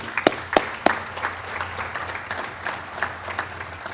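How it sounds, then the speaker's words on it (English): An audience at a Manatee County law enforcement awards event applauds police officers and sheriffs, with a few sharp claps up front before the clapping settles into a soft, steady patter. "I want to give all of you a big round of applause right from there."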